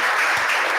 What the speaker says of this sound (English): A round of applause for them while we close.